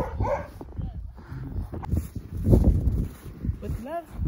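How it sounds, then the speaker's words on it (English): A dog in a household barks and yips a few times, fairly close, mixed in among people talking. "Whose dog is that?"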